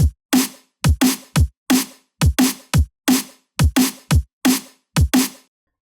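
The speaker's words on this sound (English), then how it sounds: "I'll first play it bypassed so you can hear just the dry drum sound" Dry, unprocessed drum track: punchy kick and snare hits in a steady, repeating pattern, close and loud, with short clean decays and silence between the hits.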